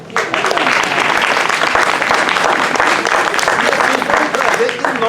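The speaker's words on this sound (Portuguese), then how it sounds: "Palmas para o Dr. Pina" Loud, continuous audience clapping at a spiritist lecture on spirituality in hospitals, starting abruptly and holding steady throughout, with a faint voice over it near the end.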